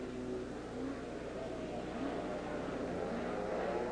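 Polaris snowmobiles racing a Mod 5 semifinal on an oval track in 1971 at Eagle River, a steady loud engine roar with whining revs rising and falling continuously across the whole stretch.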